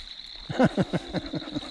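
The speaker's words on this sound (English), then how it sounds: "I'm surrounded by the frogs." A series of low, rhythmic frog croaks near water pulses about eight times in quick succession over a steady high-pitched insect-like drone in the background.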